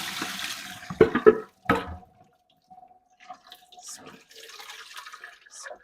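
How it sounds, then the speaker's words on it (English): Blanched cowpea leaves strained into a sink, with water splashing and pouring in short bursts at the start, then scattered faint drips and trickles fading over a quiet background. "And then I'm gonna strain it out now."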